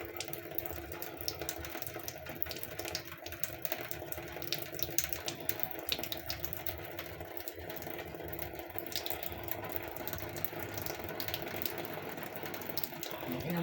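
A kitchen faucet runs steadily for a cat to drink from, a continuous thin water stream with faint mechanical clicks, fairly quiet and unbroken, with no voices heard.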